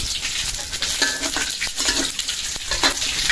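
Onions tossed into a hot pan sizzle and fry steadily during home cooking for guests, with a constant hiss and occasional utensil scrapes and stirs throughout.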